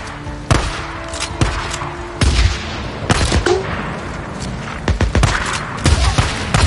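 Repeated gunshots ring out in a Days Gone gameplay fight, sharp loud cracks spaced irregularly, some in quick pairs, over a rumbling battle background.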